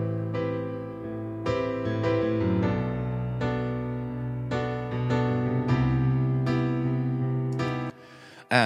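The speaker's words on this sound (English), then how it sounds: "The main instrument of the song is a piano." Solo grand piano sample played on a Roland A800 Pro keyboard, a sustained chordal passage, rich and full, with steady repeated chords across the whole stretch before a brief drop at the end.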